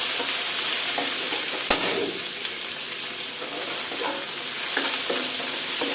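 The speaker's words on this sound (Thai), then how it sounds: "เวลาผัดค่ะ ต้องผัดให้กุ้งสุกเลยนะคะพี่น้อง" Raw shrimp stir-fry in a hot pan for a broccoli dish, with a continuous bright sizzle and occasional scraping stirs from a utensil; one sharp tap stands out briefly.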